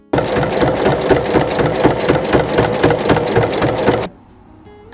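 Sewing machine topstitching all around the edge of a fabric bag about 5 mm in, a fast steady mechanical chatter lasting about four seconds, then stopping abruptly into quiet.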